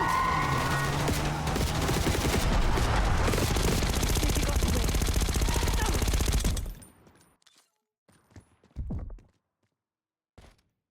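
Sustained automatic gunfire roars in a Call of Duty: Black Ops 6 street shootout, rapid rattling shots for about six seconds that cut off abruptly, leaving near silence and a few scattered thuds.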